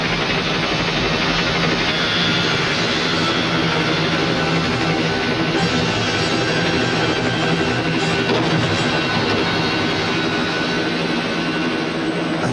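A fixed-wing airplane's jet engines roar steadily during a film stunt, a loud, continuous close-range drone with a broad rushing hiss that holds unchanged for the whole stretch, no voices.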